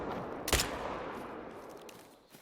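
A single loud rifle shot rings out during a Yukon trophy hunt, a sharp crack followed by a fading outdoor echo and steady background noise.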